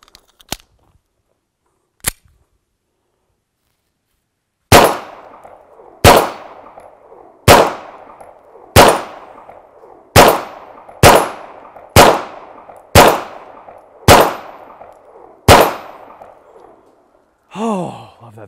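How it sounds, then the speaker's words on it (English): A string of sharp shots from a Beretta pistol, about ten evenly spaced bangs every second or so after a quiet start, each with a short echoing tail, then a brief voice. "We'll hear some shots here in just a minute."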